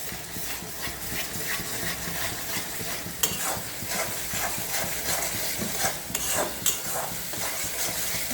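A spoon stirs spice paste into yogurt gravy in a pan while preparing gandhoraj katla, a wet scraping and sizzling texture running steadily with a few sharper clicks, close and alone.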